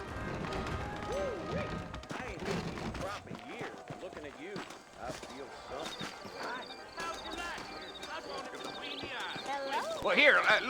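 Horses in the Red Dead Redemption video game, a rhythmic clip-clop of hooves throughout with a brief whinny, mixed under ongoing talk and a swell near the end.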